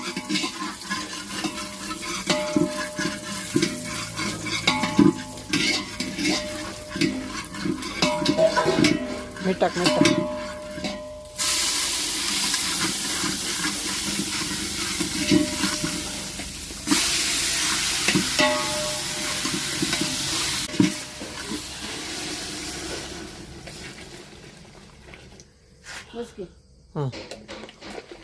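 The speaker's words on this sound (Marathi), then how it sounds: "आता आपण कांद्यामध्ये थोडंसं गावरान शिजवून घेऊया" Country chicken fries with onions in a pan, sizzling and scraping as it is stirred at a dhaba, with clanks of a utensil and a voice talking over the cooking.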